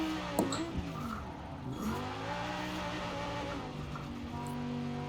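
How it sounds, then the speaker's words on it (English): An Italdesign Zerouno drifting in Forza Horizon 4 on race tires, its engine droning with shifting pitch as the tires squeal and skid, steady and close with a short sharp knock near the start. "Very, very weird feeling car drifting."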